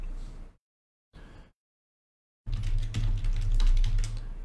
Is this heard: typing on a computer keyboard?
yes